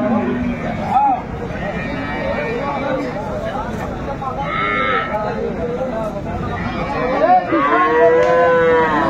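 Cows with calves at the Aftabganj cattle market moo loudly and repeatedly nearby, with bleats mixed in, under busy crowd chatter and people talking close by.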